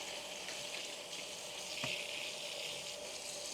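Steady tap water running in a kitchen sink while lettuce is washed, a continuous moderate hiss with a brief splash midway, no talking.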